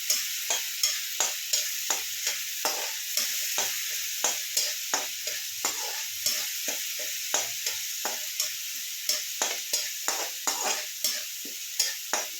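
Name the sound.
garlic and chilli paste cooking in pan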